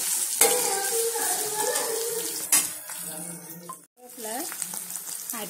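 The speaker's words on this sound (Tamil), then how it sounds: "நல்லா இந்த வெங்காயம் வதங்கி வரணும்" Chopped onions with green chillies and salt sizzle and fry steadily in a pan for rava upma, with stirring scrapes throughout and a brief pause near the end before the frying resumes.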